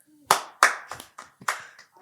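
Podcast hosts clap for their guest, a handful of close, uneven hand claps spread over two seconds, some loud and some softer, with no speech over them.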